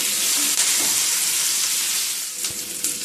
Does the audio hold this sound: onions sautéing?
yes